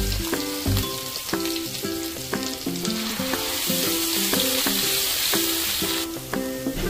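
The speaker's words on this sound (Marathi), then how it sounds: "आता कांदा आणि खोबरं त्याचं वाटण टाकून घेते।" Onion and coconut paste frying in hot oil seasoned with asafoetida for a chicken curry, a steady sizzle under a layer of bright tonal music, with a few stirring knocks near the start.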